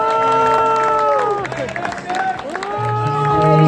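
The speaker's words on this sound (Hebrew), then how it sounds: "עם הרבה מחיאות כפיים" An audience at a 2018 natural bodybuilding contest claps and cheers for the winner, a steady wash of applause mixed with loud tonal voices or music that dips briefly mid-way.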